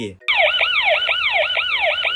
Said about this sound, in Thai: เปิดใช้คู่กับฟังก์ชันเสียงไซเรนยิ่งดี